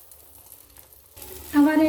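Green moong dal and egg chilla batter hits hot ghee in a pan, starting near-quiet and then breaking into a loud, close sizzle in the final half second.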